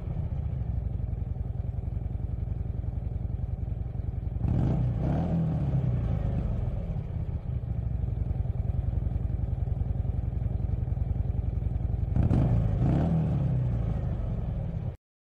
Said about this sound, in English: A motorcycle.